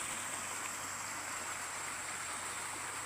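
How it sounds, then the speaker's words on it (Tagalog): A continuous rushing of a mountain river, steady and even, with a broad hiss and no voices. "Ayan ang ilog. Ilog ng sityo tubigan."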